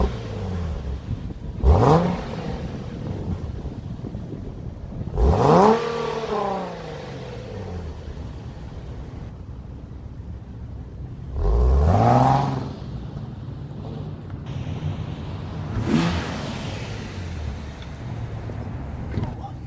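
Nissan 370Z on its stock OEM exhaust, revving in four separate bursts at about two, five, twelve and sixteen seconds, each a quick rise and fall in pitch, fairly quiet and muffled with idle between.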